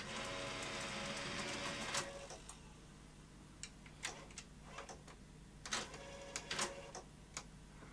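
Reel-to-reel tape machine playing a tape, its mechanism running with a steady whir punctuated by irregular ticks and clicks, close and quiet, no voices.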